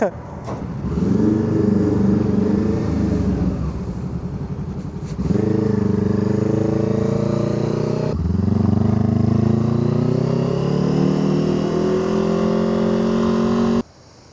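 A well-worn motorcycle with over 100,000 km on it runs loudly and close by, its engine droning steadily and climbing in pitch through a few rises before it cuts out abruptly at the end.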